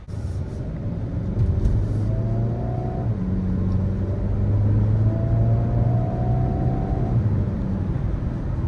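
Hyundai Kona N cruising in normal mode, a low steady engine and road drone from inside the cabin with gentle rises in engine note, no one talking.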